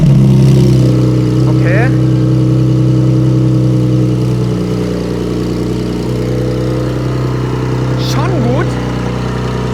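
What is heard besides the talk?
G-Power tuned Porsche 992 Turbo S engine starting and revving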